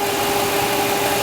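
A 2002 Toyota Sequoia engine idles smoothly and steadily up close, a constant low hum with a faint mechanical whir and no voices.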